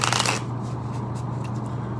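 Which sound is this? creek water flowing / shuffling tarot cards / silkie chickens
shuffling tarot cards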